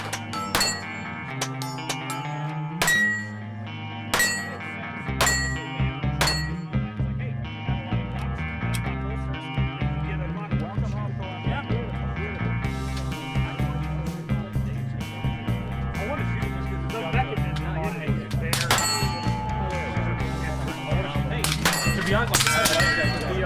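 Shots ring off steel silhouette targets on a Texas ranch shooting range: sharp metallic clangs and pings repeat at irregular intervals, some close and loud, over a busy background.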